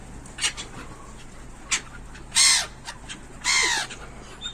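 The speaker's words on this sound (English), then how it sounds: "you know what these are? They're seagulls." Seagulls in a park give harsh, squawking calls, two loud drawn-out cries standing out among shorter calls against a steady outdoor background.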